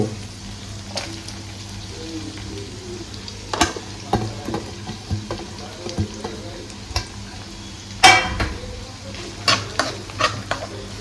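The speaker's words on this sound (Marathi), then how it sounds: "याला चांगलं असं परतून घेऊया" Capsicum and tomato sautéing in a pan for paneer ghotala: a soft constant sizzle broken by repeated scraping and clinking strokes of a spoon against the pan, close up and without speech.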